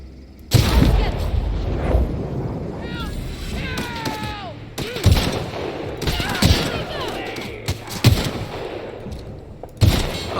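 Gunfire in The Outer Worlds: several sharp shots ring out at irregular intervals over a continuous game soundscape, with voices talking between the bursts.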